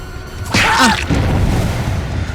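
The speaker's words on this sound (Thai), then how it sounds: "ตีให้เครื่องระเบิดไปครับเมื่อกี้" A single booming burst with a brief whoosh as a generator explodes after being hit in Dead by Daylight, loud and sudden, followed by a rumbling tail and low noise.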